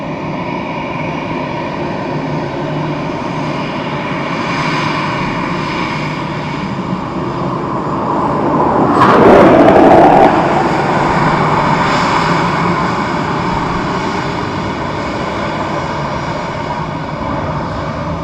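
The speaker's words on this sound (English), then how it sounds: ".757 from New York from United Airlines up next." A United Airlines Boeing 757 arriving from New York roars overhead in a loud, sustained jet drone that swells to a peak midway and then holds steady, with no talk.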